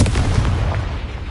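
A Confringo blasting-spell explosion in the Hogwarts Legacy video game, a single loud, close boom that bursts at once and fades into a rumbling decay.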